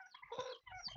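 Chickens clucking in a small coop on a Costa Rican ranch, quick overlapping bird calls in two bursts with a brief gap between, faint and close.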